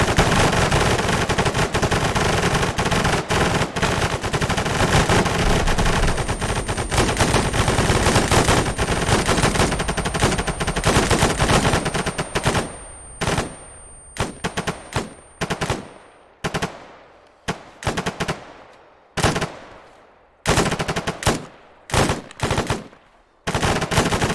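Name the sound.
machine gun firing rounds in a video game weapon test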